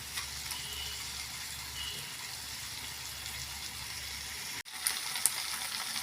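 Raw banana slices sizzle steadily in a pan with a little water cooking off before pepper is added, making a constant close frying hiss with a brief clunk near the end.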